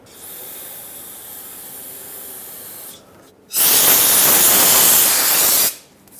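An aerosol cleaner hisses as it is sprayed onto a brake line fitting and hose on a 2008-2010 Ford F-250 Super Duty, a softer spray burst followed by a louder sustained blast that cuts off.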